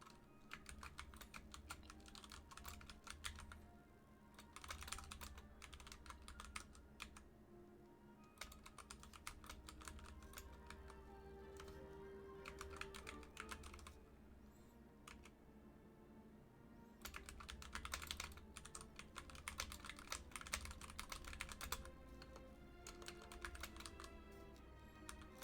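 Fast bursts of typing on a computer keyboard while game notes are entered during a tabletop campaign session, clattering in clusters with short pauses between, fairly quiet and steady over a low background hum, no voices.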